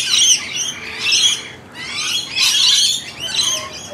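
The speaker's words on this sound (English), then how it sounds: "A noisy miners." Noisy miners in a mixed flock of wild suburban birds in Australia call loudly and harshly in repeated squawking bursts, with several calls overlapping close by.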